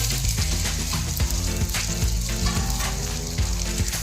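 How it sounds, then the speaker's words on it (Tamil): Steady, loud sizzling and crackling of onion and green chilli frying in hot oil, continuous throughout with small bursts of spitting. "நம்ம நறுக்கி வச்சுருக்க வெங்காயம், பச்சை மிளகாவை அதோட சேர்த்துறணும்"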